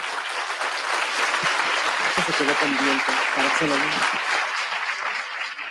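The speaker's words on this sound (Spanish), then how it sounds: "Un aplauso para él, por favor." Audience applause at a public science talk on living with schizophrenia, a steady wash of clapping with a voice briefly heard partway through.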